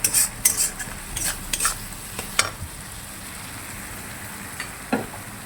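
A spice masala is sautéed and stirred in a pan, spoon scrapes clattering in quick bursts early on over a soft continuous sizzle that settles, with one more scrape near the end.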